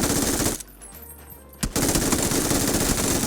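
Rapid automatic gunfire in the shooter game PUBG (Battlegrounds), loud dense bursts that stop for about a second after a single sharp shot, then resume as a sustained fast stream.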